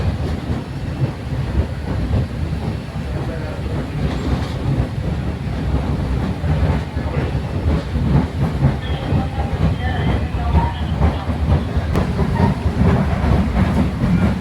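Steady rumble of a train running on rails, heard from inside the carriage, with a continuous rattle and dense clickety-clack throughout at close range.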